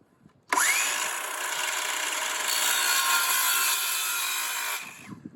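A short length of PVC pipe being sawn, one continuous abrasive cutting stroke about four seconds long, close and loud, starting abruptly and stopping cleanly.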